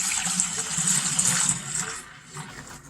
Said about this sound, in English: we're going to pour it into the fermenting bucket